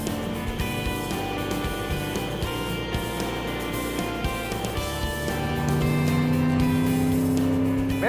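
A car motors steadily along the road on a long drive, its engine a loud, close, continuous drone whose tone climbs and strengthens toward the end.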